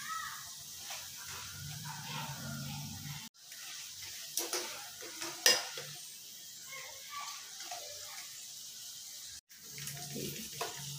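Okra frying in a pan, a soft steady sizzle and hiss broken by a few clinks and brief pauses, moderately quiet and close, with no talking.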